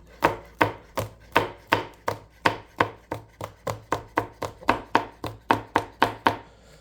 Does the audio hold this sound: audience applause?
no